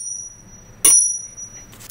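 A single bright clink of two jade pendant pieces knocking together, followed by a long, pure, high ringing tone that slowly fades, with a faint second tap near the end; close and clear, no voices.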